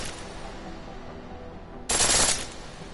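Pistol in the game Deus Ex: Mankind Divided firing in full auto, a single rapid burst of shots lasting under a second after quieter game ambience.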